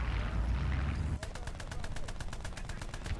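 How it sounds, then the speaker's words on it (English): Rapid machine gun fire rattles out in War Thunder near a British tank, a regular burst of about a dozen sharp shots arriving after a rumbling engine drone that continues underneath. "I hear machine gun bullets from somewhere"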